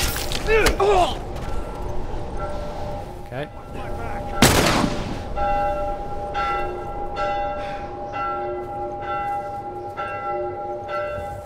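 A sudden loud gunshot crack rings out in The Last of Us, preceded by a few smaller impacts, then a sustained bell-like ringing tone lingers underneath while a voice talks over the mix.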